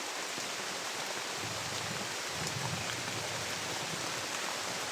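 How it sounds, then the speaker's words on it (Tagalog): Steady rain patters and trickles continuously as water leaks and drips through a roof, a dense wash of dripping water with no voices. "Pag umuulan, tumutulo. Tumutulo siya."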